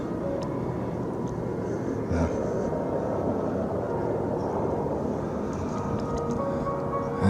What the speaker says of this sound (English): Sure save a lot of money and all this helicopters buzzing around everywhere.